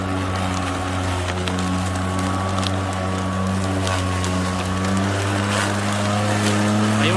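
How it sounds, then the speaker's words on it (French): A steady electric motor hum from a Greenworks 46 cm GD48LM46SP electric lawn mower drones close by, its pitch rising slightly as it runs harder in taller grass, with light rustling and clicks throughout. "on entend le moteur qui tourne plus fort là"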